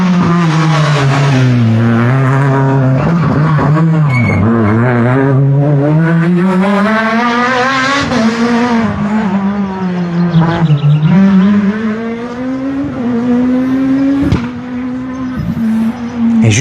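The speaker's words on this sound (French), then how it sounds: "on entend arriver la Super 1600" A Super 1600 rally car at a rally special stage arrives at speed, its engine note loud, close and continuously rising and falling with gear changes as it passes the spectators.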